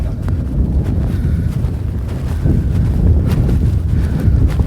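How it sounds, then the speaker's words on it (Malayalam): Strong desert wind buffets the microphone in a steady low rumble, gusting slightly louder toward the end, with no voices. "നല്ല കാറ്റടിക്കുന്നുണ്ട് കേട്ടോ"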